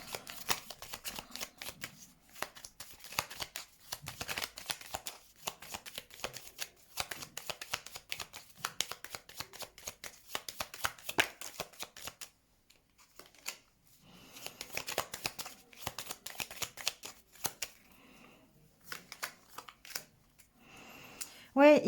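Tarot cards are shuffled and laid out in a long run of crisp riffling and flicking with brief pauses, close and quiet, under a voice that talks now and then.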